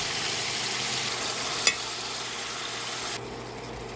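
Chicken meat frying with ricado in a pan, a steady broadband sizzle running throughout with a single sharp clatter midway as the pieces are flipped, and the hiss dropping slightly near the end.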